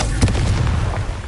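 A Confringo fire spell blasting in Hogwarts Legacy, a short burst of booming, crackling impacts with rumbling low end, loud and close, briefly rolling off.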